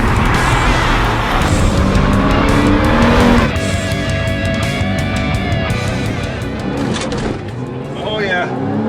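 A Porsche 911 and a Boxster S drag race, with a loud engine roar and brief tire squeal launching hard, then a sustained high revving pull heard close from inside, with voices talking over it.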